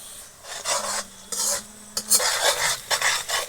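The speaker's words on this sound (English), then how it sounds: "And you have to stir frequently." A pot of beef with potatoes, onions, garlic and green chilies is stirred in a village kitchen in Assam, with close, rhythmic scraping strokes of a utensil against the pot and a faint sizzle, and no talking.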